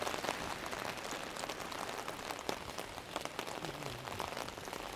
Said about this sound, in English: It sure is raining.